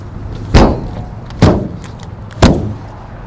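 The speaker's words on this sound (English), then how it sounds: "I'm going to shut these doors because, like I said, it's a little breezy." Three exterior compartment doors on a new 2020 Newmar Bay Star 3626 motorhome are shut one after another, each a loud, sharp, close thump about a second apart, outdoors in a light breeze.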